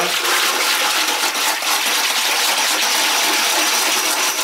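Liquid red iron oxide clay slip, a mix of red clay and red iron oxide, is stirred in a container, producing a loud, continuous sloshing, rushing swirl of liquid that stays steady throughout with no pauses.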